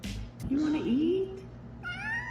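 A house cat lets out a long drawn meow in the middle and a short higher meow near the end, close and clear, while someone talks to it before the cries.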